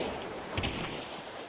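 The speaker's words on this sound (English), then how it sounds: "heavy rain stopping" Heavy rain falls steadily in the game Hunt: Showdown, a dense continuous hiss with a brief low rumble midway, no voices.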